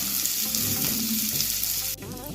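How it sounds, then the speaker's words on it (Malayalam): Mustard seeds spluttering and popping in hot coconut oil, a dense continuous sizzle with crackling bursts, close and loud, briefly shifting near the end as the pan is disturbed. "അതിലോട്ട് നമുക്ക് കടുക് ഒന്ന് പൊട്ടാനായിട്ട് ചേർത്ത് കൊടുക്കാം."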